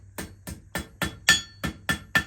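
A small hammer strikes metal in a blacksmith's shop with coal fires, giving seven sharp ringing taps at an even, unhurried pace, close and clear with no voices.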